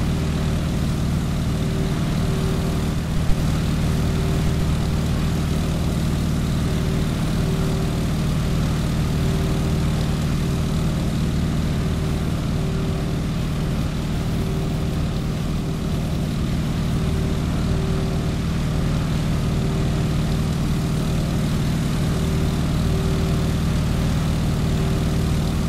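An airplane engine drones during takeoff in the Microsoft Flight game, a loud, constant propeller hum with a steady low tone that holds unchanged throughout, with no voices.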